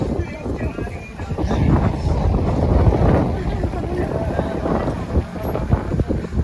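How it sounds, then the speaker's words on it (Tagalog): Strong wind roars and buffets the microphone continuously at Laguna Lake, with a low rumbling gusty noise throughout; faint outdoor sounds underneath. "Lakas ng hangin."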